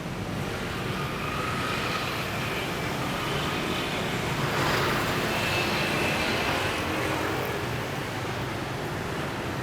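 A Jetstar budget airliner passes overhead above a Saigon city street as a broad, steady roar that swells slightly in the middle, blending with constant traffic noise and no talk.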